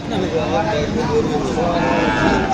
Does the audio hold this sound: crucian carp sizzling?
no